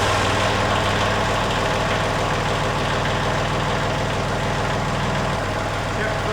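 A Kubota L3560 tractor's diesel engine runs at a steady, loud idle close by, a constant low throbbing rumble with rapid knocking pulses throughout.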